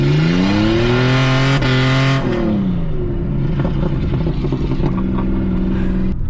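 A straight-piped Ford Ranger driving on a snowy road, its loud raw exhaust rising and falling in pitch with the revs, a harsh droning roar heard from inside the cab.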